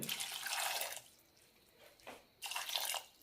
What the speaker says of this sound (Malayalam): കഷ്ണങ്ങൾ വേവാനുള്ള വെള്ളം കൂടി ഒഴിക്കാം